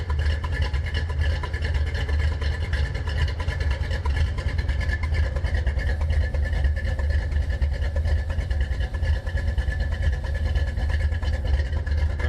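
A 1984 Ford Mustang Foxbody GT350 rolls in first gear with no throttle, its engine holding a steady, loud low drone near idle throughout.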